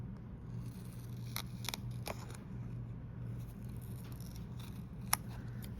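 Scissors snip through craft foam to cut out shapes, a series of short, crisp clicks at an irregular pace over a low, steady background hum.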